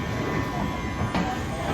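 Inside a train running through France, a steady broad rumble of wheels and carriage noise fills the cabin, loud and continuous, with a faint thin squeal and a brief rattle partway through.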